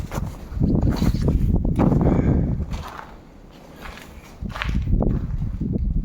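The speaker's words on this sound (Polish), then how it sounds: "Bo tutaj myślałem, że będzie spokojniej, ale też wieje." Wind gusts buffet the microphone outside an abandoned mausoleum, coming as rough, rumbling low-pitched blasts that swell and ease, dip briefly in the middle and then return strongly, with no talking.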